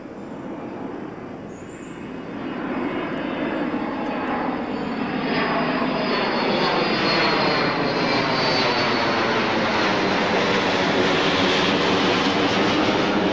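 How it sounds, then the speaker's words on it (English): A jet airplane flies near an airport, its engine roar swelling over the first few seconds and then holding as a loud, sustained rushing drone with a broad, sweeping tone, no voices over it. "not far enough to where you can't hear the planes go"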